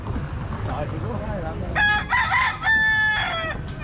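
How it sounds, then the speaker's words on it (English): A rooster crows nearby in the Florida Keys, a loud drawn-out call in several bursts after a stretch of quieter background noise and clucking. "roosters are all over here in the Keys."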